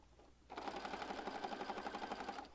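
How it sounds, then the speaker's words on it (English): Sewing machine stitching across the top of junk journal pages, a steady fast mechanical whir with even rhythmic ticking, close and fairly quiet, no talk. "So I just stitched across the top there. I'll do all of these real fast."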